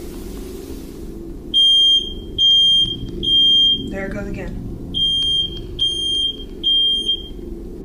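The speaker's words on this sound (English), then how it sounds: "The ghost seems to turn the smoke alarm on upon her mention." A household smoke alarm goes off in repeated shrill electronic beeps: three long tones, a short gap where a person speaks, then three more tones, all loud and close.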